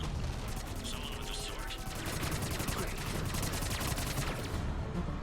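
Sustained gunfire with cryo ammo against Atlas mech shields in the Mass Effect video game, a dense continuous barrage of rapid shots and battle noise lasting several seconds, close and steady, with no talk.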